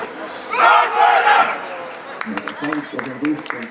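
A football crowd at a Rakvere JK Tarvas match against Tartu FC Santos roars and chants for a Rakvere player, a loud burst that falls into scattered clapping and shouts.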